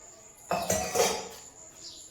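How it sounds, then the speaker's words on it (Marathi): Metal pots and dishes are scrubbed and knocked together nearby, giving a short burst of clanking and scraping that fades within about a second; no voices. "मी तोपर्यंत भांडे घासून घेते"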